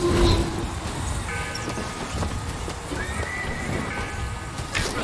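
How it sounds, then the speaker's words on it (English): A mechanical horse in a video game whinnies near the start, followed by clip-clop hoofbeats, tonal toots and mechanical noises over a busy background. "Mechanical, the automatic stallion, the horse of the future, today."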